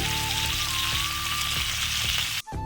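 Capsicum pieces fry in oil over low heat for a spicy dry potato-capsicum curry, a steady close crackling sizzle running throughout with a brief dip near the end.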